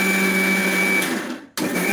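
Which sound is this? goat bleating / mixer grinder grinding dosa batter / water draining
mixer grinder grinding dosa batter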